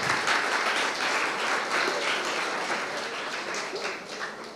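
An audience at a live talk show breaks into loud, sustained applause, a dense wash of many hands clapping that continues throughout and tapers slightly toward the end.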